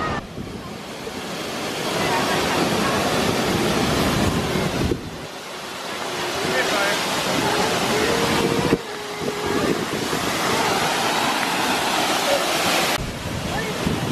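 Broad, steady rush of a large waterfall on a forest hike near Seattle, with heavy wind buffeting on the microphone and the roar dipping briefly a few times.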